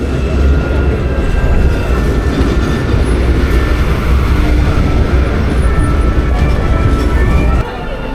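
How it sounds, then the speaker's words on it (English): A passenger train pulls away from Kharkiv station with a steady low rumble of rolling wheels and faint clatter, loud and close throughout. "It didn't take long for the train to leave Kharkiv."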